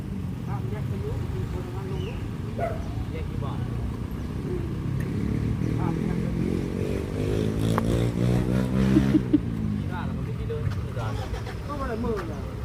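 A motorcycle engine revs in bursts, with a rising and falling harmonic whine in the middle of the clip, under fairly constant background noise and nearby voices.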